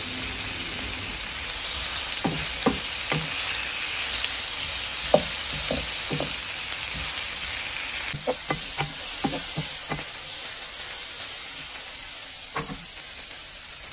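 Tomatoes sautéing in a pan, a steady close sizzle and hiss with repeated clicks and scrapes of a spatula stirring, no talk.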